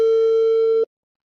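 A single steady electronic phone tone from an unanswered call, loud and clean, holding one pitch for under a second before cutting off abruptly into silence.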